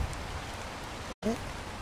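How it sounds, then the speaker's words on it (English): Steady rain falls outdoors as an even, close wash of patter, cut by a brief dropout partway through, with no talking. "And there's the rain."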